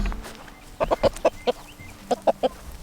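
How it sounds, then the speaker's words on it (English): A rooster clucks in a series of short, close calls, a quick cluster followed by a brief pause and a few more clucks, over quiet background on a homestead in the evening. "don't you scare that rooster into hurting me"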